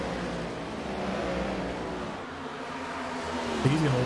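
Race car engines droning in the iRacing video game at Las Vegas, a continuous mid-level whir of cars circulating with a rising rev near the end, heard under a commentator's talk.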